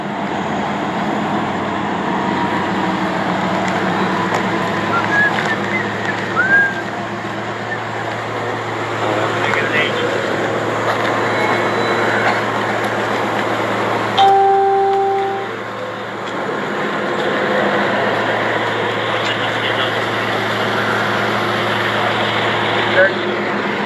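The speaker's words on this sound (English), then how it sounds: "We got the trains picking up a little bit here" Trains rumble past in El Paso, Texas, with a long, steady low drone of railcars and a brief horn-like tone midway, heard outdoors under a fairly loud ambient wash.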